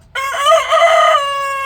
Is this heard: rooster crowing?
yes